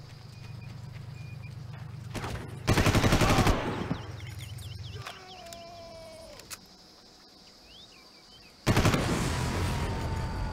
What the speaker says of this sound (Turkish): Nereden sıkıyorsun? Burada mı sıkıyorsun?